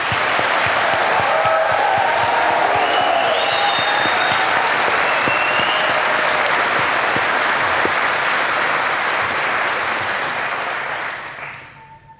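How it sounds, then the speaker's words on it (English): A graduation ceremony audience at Ulster University Coleraine applauds loudly and continuously in a full, dense roar of clapping that holds steady for about eleven seconds before quickly dying away. "we'll give them a round of applause"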